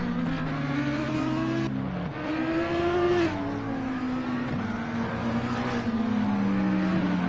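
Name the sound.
race cars driving into turn one at the Nürburgring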